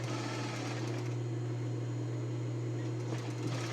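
Close and loud, a sewing machine hums steadily as it stitches over an existing seam on a woman's blouse, holding one even whirring drone throughout with no pauses and no voices.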